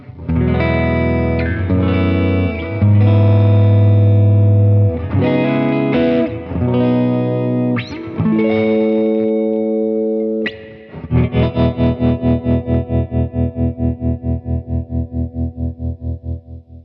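A distorted Gibson ES-335 semi-hollow electric guitar on the neck pickup, with a warm, rounded tone, plays sustained chords and riffs, then rhythmic chugging palm-muted chords that fade out; no voices.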